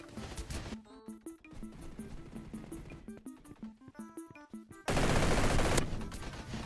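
Rapid bursts of gunfire from a Roblox shooter game, sharp repeated shots in quick succession over ambient game tones, ending in a louder sustained blast of noise.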